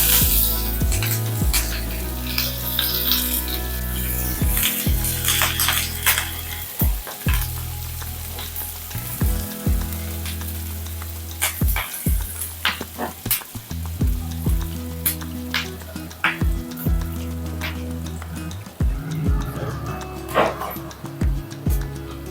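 Bay leaf, whole spices, curry leaves and onion frying in hot oil for a spicy black misal, with steady loud sizzling broken by repeated sharp clinks and scrapes of stirring close by, and no talk.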